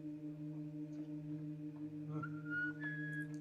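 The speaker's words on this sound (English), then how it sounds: "Don't whistle, dear, please." A person whistles a few rising tones in a scene from classic Doctor Who, entering about two-thirds through over a steady low electronic hum.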